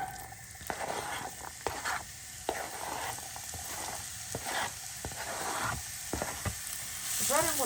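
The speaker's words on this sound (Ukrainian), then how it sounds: "відправляємося на гарно розігріту сковорідку, жарити цибульку" Chopped onion sizzles steadily in a hot oiled frying pan while a utensil stirs and scrapes at irregular intervals, close and fairly loud.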